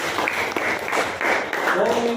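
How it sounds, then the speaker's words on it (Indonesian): Students in a classroom lesson give a round of applause, dense clapping from a group that carries on throughout while voices talk and call out over it. "mari kita berikan tepuk tangan"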